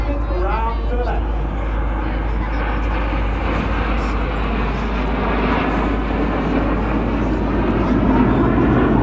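Red Arrows jets accelerating in formation at an airshow, a broad distant engine roar holding steady with a faint rising whine, heard beneath continuous commentary from someone speaking over it.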